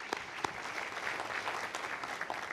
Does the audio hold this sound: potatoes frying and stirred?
no